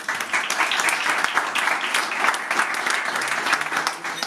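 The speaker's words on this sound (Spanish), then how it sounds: "también un aplauso, gracias" An audience applauds at the official weigh-in for a world championship boxing bout, a crowd of clapping hands, fairly close and steady, with a few sharper individual claps standing out and no speech.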